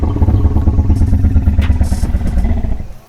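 A low, rattling Ankylosaurus call from a dinosaur video game, a loud, close, pulsing rumble with a clattering texture lasting about three seconds before fading out.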